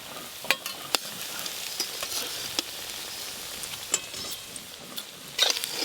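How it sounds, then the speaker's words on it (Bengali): Beet and cabbage koftas frying in oil give a steady, fairly quiet hiss with scattered sharp pops and crackles, and no voices. "এই দেখুন কোপ্তাগুলো ভালো করে ভাজা হয়ে গেছে একদম।"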